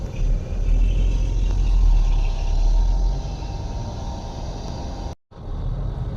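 Bus crawling through a traffic jam on a road near Surabaya, Indonesia: a steady, loud low engine rumble with road noise throughout, briefly cutting out near the end before resuming.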